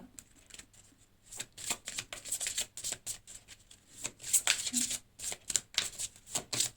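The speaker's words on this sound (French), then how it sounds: "on va prendre une dernière carte" Tarot cards being shuffled and drawn close by, a busy run of soft riffling flicks and slaps with brief pauses, and a voice speaking faintly underneath.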